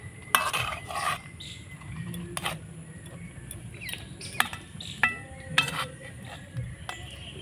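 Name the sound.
stirring rasapuli dumplings in warm syrup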